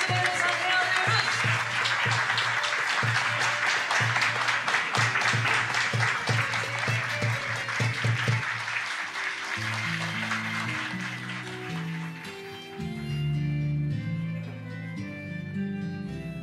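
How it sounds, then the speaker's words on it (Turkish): Applause from an audience fills the first nine seconds as a dense, steady patter of clapping, then gives way to louder sustained musical tones. "Kocaman alkışlar gelebilir mi?"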